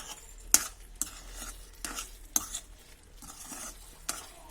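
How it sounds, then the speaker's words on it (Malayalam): A spoon scrapes and clinks against a pan as sweet mango pickle is stirred over a low flame, with several soft strokes and a gentle sizzle underneath, close and quiet. "പിന്നെ നമുക്കിത് നന്നായിട്ടൊന്ന് ഇളക്കി കൊടുക്കാം"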